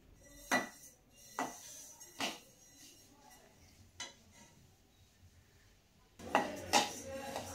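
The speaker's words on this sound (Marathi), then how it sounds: "तीळ छान आपण भाजून घेणार आहोत" Sesame seeds dry-roasting in a hot kadhai, heard as a series of separate scraping knocks of a spatula against the metal, then a denser burst of clattering stirring at the end.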